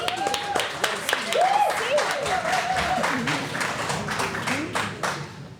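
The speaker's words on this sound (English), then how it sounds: "Let's give her a round of applause." An audience at a live podcast event claps, a steady patter of many hands with cheering and excited voices rising over it, tapering slightly toward the end.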